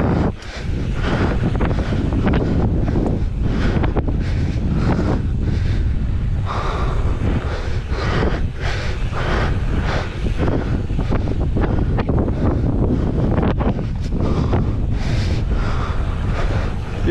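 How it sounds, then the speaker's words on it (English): Heavy wind buffets the microphone in continuous loud rumbling gusts at a trailside bike park in Park City, Utah, with no clear speech over it. "Too windy."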